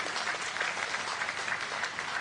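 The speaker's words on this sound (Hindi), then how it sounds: "एक बार जोरदार तालियां बजाइए" Audience applause for Swatantra Dev Singh at a felicitation ceremony, a steady, fairly distant patter of many hands clapping that holds evenly throughout.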